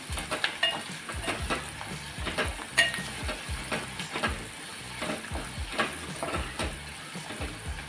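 Golden fried onion is stirred with turmeric and garam masala in a pan for a Maharashtrian takala leaf vegetable dish, a steady close sizzle broken by repeated scraping strokes of the spatula, with no voices.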